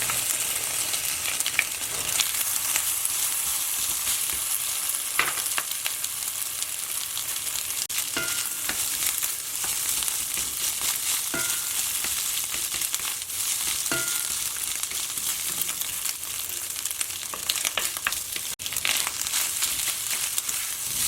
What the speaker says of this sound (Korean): 여기에 굴소스 반 큰술을 넣고 볶다가